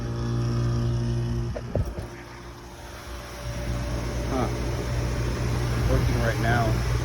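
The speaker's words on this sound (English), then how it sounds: "As you can see, the unit is running." An HVAC unit hums steadily with its compressor and blower motor running, a low tonal drone under a voice talking, with a couple of brief clicks early on.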